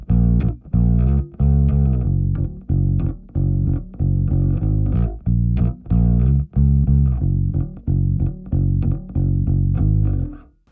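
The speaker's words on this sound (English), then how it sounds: "So this is a bit of distortion from the OCD model, the compulsive drive." A bass guitar runs through an OCD-style compulsive drive distortion pedal, playing a loud, gritty riff of repeated plucked notes with short gaps between phrases.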